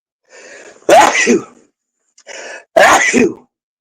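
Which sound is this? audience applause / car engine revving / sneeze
sneeze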